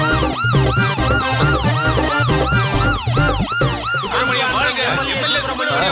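Wailing siren mounted on a car, loud and continuous, its rising and falling sweeps repeating rapidly with a steady low vehicle rumble underneath and no talking.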